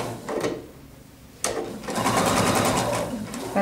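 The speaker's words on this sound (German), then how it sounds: "dass ich jetzt quasi bis hier in die Ecke näher" A sewing machine hums steadily as it stitches a tunic seam into a corner, starting and stopping briefly, with someone talking over the whirring motor.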